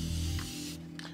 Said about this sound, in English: All right, got a little spray adhesive on there.